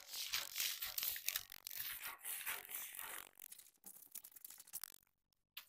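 Scissors slice through fabric for a sewing pattern, making close, quiet, irregular crunching and rustling snips that fade into near silence at the end.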